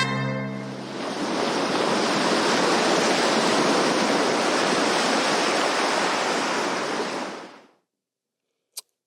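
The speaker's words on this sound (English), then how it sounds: "All right, trumpets and waves." Steady, loud ocean surf washing in a broad continuous roar for several seconds before cutting off abruptly, followed by a single brief click.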